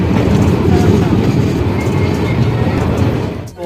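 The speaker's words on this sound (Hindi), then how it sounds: "ट्रेन हमारी अराइवल हो रही है निर्मली रेलवे स्टेशन पर।" Steady, loud rumble of the Danapur–Jogbani Intercity Express pulling into Nirmali railway station in Bihar, recorded from inside a sleeper coach, with rolling wheel noise and light clatter that eases off near the end.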